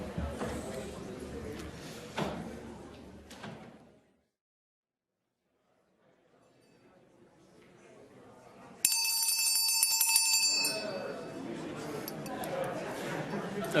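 A presenter at a policy engagement workshop rings a bell, a bright, ringing tone with lingering shimmer that cuts through a room of chattering voices, after a brief lull in the crowd noise.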